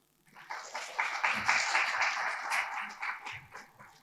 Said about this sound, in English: So I request the participants to give her a big applause.